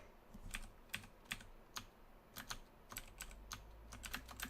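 A computer keyboard clacks as one key is tapped over and over, quick close keystrokes in uneven bursts and singles, crisp and fairly quiet with no talking.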